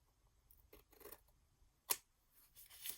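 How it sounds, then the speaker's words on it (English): Scissors trim sticker paper for a junk journal, giving several short snipping cuts with one sharp, louder snip near the middle and quieter trimming toward the end, close up with no talking. "we'll trim off that part"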